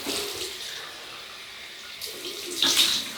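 Tap water runs and splashes in a sink to rinse alum off a shaved face, a steady moderate rush that swells louder near the end.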